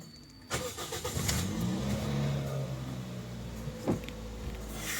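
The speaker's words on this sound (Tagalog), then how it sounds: "pa-start ko muna itong makina." A Toyota Vios car engine cranks and catches, then settles into a steady low idle, close and continuous, with a brief knock partway through.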